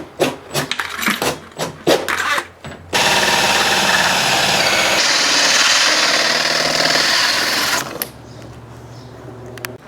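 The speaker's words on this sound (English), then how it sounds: "we're going to use a 2 3/4 hole saw to drill a hole here" A 2 3/4 inch hole saw drills through a wall, a steady loud grinding whir running unbroken for about five seconds, set between sharper tapping and clattering bursts at the start and end.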